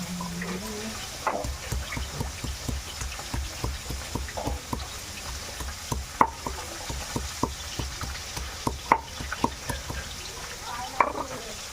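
Steady oil sizzling from Saipan fish frying in a pan, with frequent light clicks and scrapes of stirring throughout.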